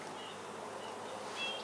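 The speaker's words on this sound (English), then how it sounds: "There's not many bees on it." Honey bees buzz faintly around a honey frame in a beekeeping yard, a soft continuous drone with a few thin passes of individual wings rising near the end.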